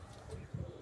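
Pigeons coo softly in a large breeder loft net holding Pakistani pigeons, low throaty murmurs rising in a brief louder burst near the end amid faint background noise.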